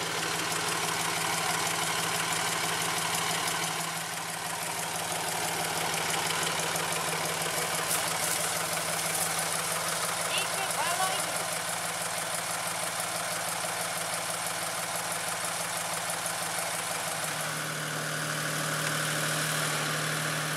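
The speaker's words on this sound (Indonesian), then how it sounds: "lokomotif D4 nya akan mundur masuk ke jalur ram menuju ke dalam kebun ini" A D4 diesel locomotive reverses onto a sugarcane plantation track with a steady, throbbing engine hum and vibration. The sound is continuous and fairly close, with no talking.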